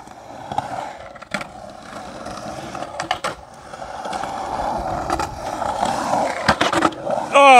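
Skateboard wheels roll and a metal truck grinds a 50-50 along a ledge with a rough scraping rasp, ending in a louder clatter.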